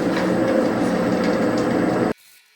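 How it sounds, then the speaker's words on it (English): A lathe spinning a birdseye maple bowl while a 1/4 inch bowl gouge cuts it, giving a steady dense whirring scrape that stops abruptly after about two seconds, leaving faint room noise. "Start with a little 1/4 inch bowl gouge here."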